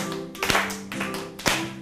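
Hands clap twice, sharp and close, over a quiet background of sustained musical tones from a children's song.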